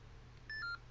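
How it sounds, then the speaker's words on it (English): A short pair of quiet electronic beeps, two tones in quick succession, over a low steady hum. "Things are beeping at me."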